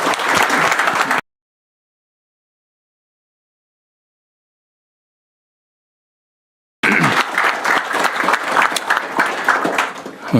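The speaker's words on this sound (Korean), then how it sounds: "우리 총리님한테 박수 한번 쳐주시죠" A cabinet meeting room breaks into a burst of clapping from a seated group, loud and close, then goes silent and resumes as a second sustained round of applause.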